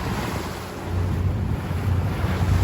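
A 36-foot Grand Banks boat crossing offshore from Panama City to Sarasota, Florida, surrounded by a steady, loud rush of sea waves and gusting wind buffeting the microphone, with no speech.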